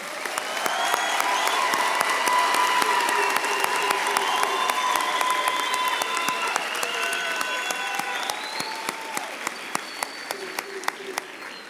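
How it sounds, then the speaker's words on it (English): A large audience at a La Joya high school commencement ceremony applauds the graduates, a long, full round of clapping that slowly tapers, with cheering and overlapping crowd voices mixed in. "Another big round of applause for all of our graduates"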